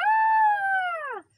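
A person imitates a dog howling with a single sustained, close, loud tonal howl lasting about a second that slides downward in pitch at the end.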